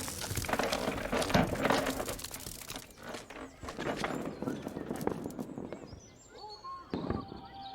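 Donkey hooves clip-clop irregularly in the Lost Lands 10 adventure game, under game effects and spoken dialogue.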